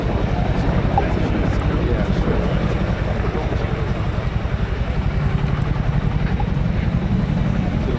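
A Chinook helicopter at the RAF Cosford Airshow 2024 flies a simulated front-line weapons drop-off, its heavy rotor chop and turbine roar loud and steady throughout, with a voice faintly beneath.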